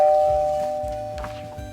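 A doorbell chimes once, its clear ringing tone lingering and slowly fading over soft background sounds.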